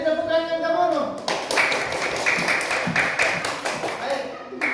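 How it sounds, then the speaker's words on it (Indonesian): A classroom of students claps for a classmate's answer during a computational thinking lesson, a dense burst of hand claps rising after a brief teacher's voice and continuing steadily to the end. "Beri tepukan yang kamu."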